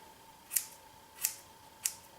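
Three separate, crisp scissor snips cut hair during an at-home layered haircut, each a short sharp close-up stroke spaced roughly evenly apart against a quiet room with a faint steady hum.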